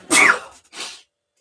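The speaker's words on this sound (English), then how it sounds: "I had to sneeze." A single loud, explosive sneeze up close, followed by a short breathy exhale, then silence.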